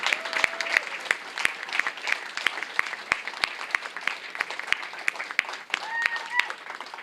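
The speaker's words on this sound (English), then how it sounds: "Everybody, please join me in giving a big round of applause to all the candidates that for leader." Audience applause for NDP federal leadership candidates at a riding association annual general meeting in Nanaimo, sharp claps spread across the whole stretch at moderate volume, with faint voices and tones in the background.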